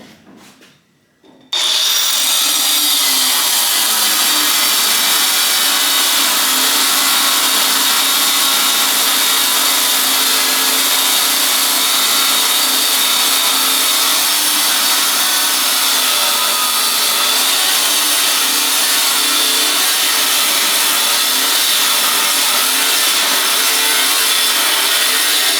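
A power tool cuts through the metal bed of an Apache truck, starting abruptly after a quiet moment and grinding on loud and steady for over twenty seconds.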